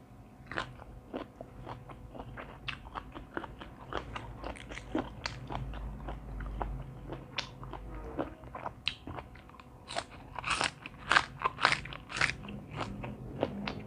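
Steady crisp crunching of crunchy squid being bitten and chewed close up, a dense run of crackly snaps throughout with no talking.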